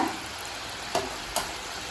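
Rice flour murukku fries in hot oil with a continuous, close sizzle, broken by two short crackling pops.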